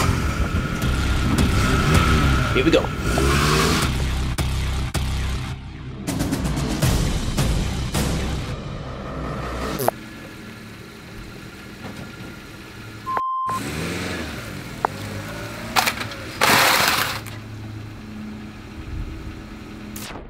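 A car is driven over a Master Keys Lite keyboard, its engine idling and revving close by for about twenty seconds, with brief sharp knocks and short pauses along the way and a few spoken words early on.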